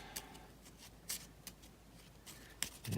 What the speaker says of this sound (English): And for Gimli, do some shuffling